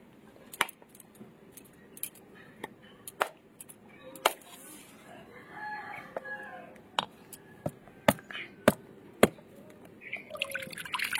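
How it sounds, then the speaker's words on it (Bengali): A coconut is cracked open in a home kitchen with a series of sharp, hard knocks at uneven intervals, some coming in quick pairs, over faint background clatter. "নারকেলটা ফাটিয়ে নেবো আমি।"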